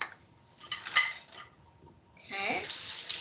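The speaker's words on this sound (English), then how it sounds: "I'm going to go ahead and stir it until my butter's a liquid." Hot butter stirred in a heated bowl until it melts: a spoon scrapes and clinks against the bowl in a short flurry, then a louder, steadier scraping run, close and fairly quiet.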